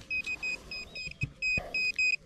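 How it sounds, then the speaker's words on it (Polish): A metal detecting pinpointer gives a rapid series of short, clear electronic beeps in quick bursts, close by, with brief handling knocks in between and no talking. "jak pinpointer pika."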